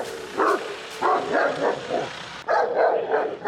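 A guard dog at a barbecue barks in a quick run of close, sharp woofs and yips, several short bursts with a brief pause before a final pair.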